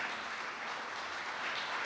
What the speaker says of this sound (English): But you acknowledge them with applause today.